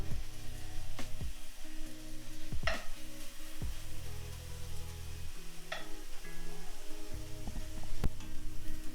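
Steady oily sizzling of orange slices frying in coconut oil in a pan, with occasional sharp clicks and scrapes from stirring; nobody speaks.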